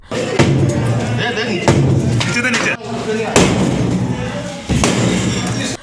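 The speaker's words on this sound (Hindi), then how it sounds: "नगर निगम के कर्मचारी पहली मंजिल पर पहुंचे और हथौड़ चलाकर मकान तोड़ना शुरू कर दिया" Hammers strike a house during municipal demolition work on an upper floor, producing repeated heavy thuds and slams at irregular intervals, loud and close, with voices talking in the background.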